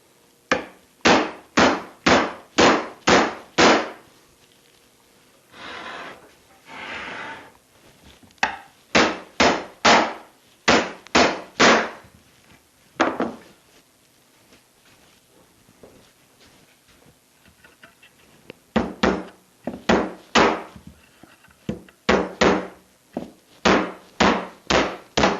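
A hammer knocks apart a wooden pallet held together with ring shank nails, loud, close, sharp blows in quick runs of four to six strikes, separated by short pauses and quieter scraping and shifting of boards.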